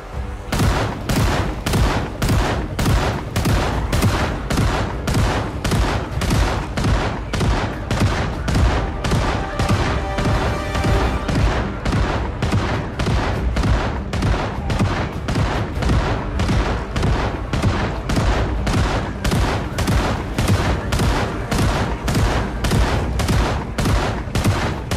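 Repeated shotgun blasts in Project Zomboid, set in an overrun Louisville, booming at a steady, even rhythm for a long stretch, each shot loud and close with a short tail.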